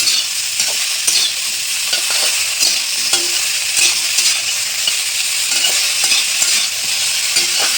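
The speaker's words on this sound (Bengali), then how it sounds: "এটা একটু ভালো করে নেড়ে চেড়ে" Cauliflower sizzles steadily in a hot pan while a utensil scrapes and clinks now and then as it is stirred. No one speaks.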